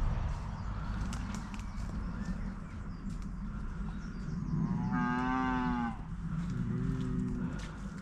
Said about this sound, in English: Can hear you mooing.